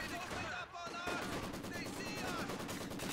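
Maxim machine gun fire in Company of Heroes 2, a dense rapid rattle of shots that carries on after a brief lull, mixed with other battle noise.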